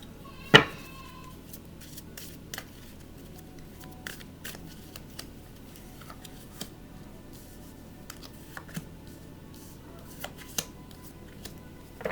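Tarot cards shuffled by hand, opening with one sharp slap as the deck slips and scatters, then soft scattered flicks and light taps of cards spread across a quiet background.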